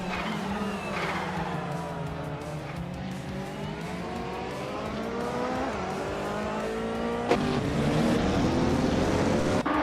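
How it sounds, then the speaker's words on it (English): Several racing cars in a video game, led by a 2015 Ferrari 488 GT, launch off the grid at the Circuit de Pau Vintage, engines roaring and climbing through the gears in a dense continuous drone with tyre noise, growing louder near the end. "the race just kicked off at the Circuit de Pau Vintage"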